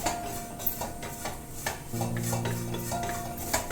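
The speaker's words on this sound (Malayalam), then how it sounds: "അല്പം ചൂടുവെള്ളം കൂടി ഒന്ന് ചേർത്ത് കൊടുത്തിട്ടൊന്ന് മസാല നന്നായിട്ട് ഇളക്കി ഒന്ന് മൂപ്പിക്കുക" A spoon stirs and scrapes masala in a metal pan after hot water is added, cooking breadfruit mappas Kerala style. Intermittent clinks and scrapes come close, with a faint ringing tone between strokes.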